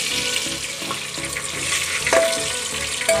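Potatoes frying in a pan for a home-style mutton curry, giving a steady, close sizzle with soft stirring and scraping throughout and a couple of brief brighter clinks near the end, no voices.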